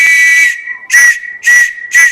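A whistle blows the Morse code letter B: one long, shrill blast followed by three short, evenly spaced toots, loud and close with no voices.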